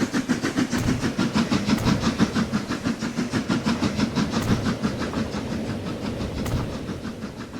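A train rolls along a main line in Transport Fever 2, rhythmic clickety-clack of wheels over rail joints under a steady hiss, moderately loud throughout with no voices.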